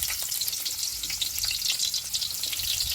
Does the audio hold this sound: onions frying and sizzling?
yes